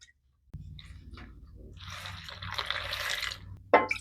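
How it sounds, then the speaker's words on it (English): Cold water poured from a jar into a meal in a skillet, a close splashing, gurgling pour that builds and runs steadily for a few seconds before a brief sharp clatter. "I'm going to be adding 2 cups of cold water."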